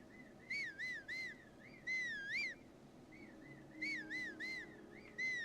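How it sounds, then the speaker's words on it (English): Link's whistle for his horse in Zelda Tears of the Kingdom rings out as several short warbling whistle phrases, each a cluster of three or four wavering notes with pauses between, over a quiet game background. "let's see if he can hear my whistle from over here"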